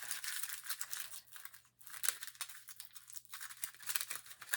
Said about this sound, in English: I am going to gently, at first gently crumple it